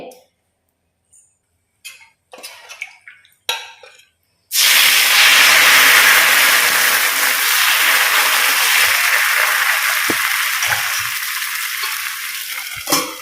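Oil and dosa batter hit a hot iron tawa with a sudden loud, steady sizzle that holds for several seconds and slowly eases, after a few quiet clinks and scrapes of preparation.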